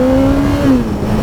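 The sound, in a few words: Kawasaki ZX-14R engine with traction control kicking in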